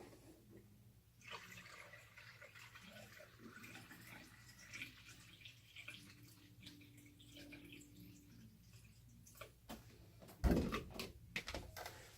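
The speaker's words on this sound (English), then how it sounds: "I'm going to fill her up with my filtered water to rinse." Filtered water runs into a film developing tank during a rinse of black-and-white film, a faint, steady pour with a louder gush of splashing near the end.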